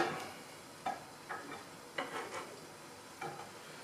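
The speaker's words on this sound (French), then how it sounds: "L'eau, je n'ai pas mis beaucoup, est en train de bouillir." A small amount of water heats to a boil in a pot, giving a soft, continuous bubbling hiss. Several short, sharp clinks break through it, like a utensil touching the pot.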